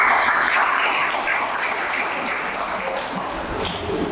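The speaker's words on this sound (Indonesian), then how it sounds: "Tepuk tangan dulu dong." An audience at a cultural dialogue event applauds steadily for several seconds, a dense, even wash of many hands clapping that stays loud throughout, with faint voices underneath near the end.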